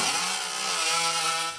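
A chainsaw at a women's lumberjack show runs at a high, steady buzzing whine, loud and close, with no voices.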